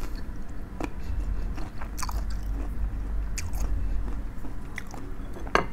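Crisp, close crunching and chewing of crunchy green mango eaten with sweet fish sauce, with sharp bites scattered over steady mouth noise.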